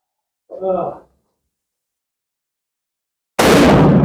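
A single loud, abrupt shot from a Portuguese Vergueiro rifle rings out nearby and carries on as a roaring tail, following a short spoken phrase and a few seconds of silence.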